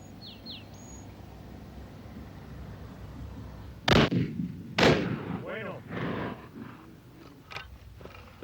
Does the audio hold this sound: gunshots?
yes